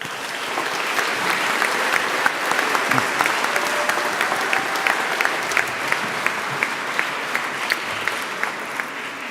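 A large audience at a postgraduate graduation ceremony claps steadily and loudly for several seconds, a dense continuous applause without cheering or talk.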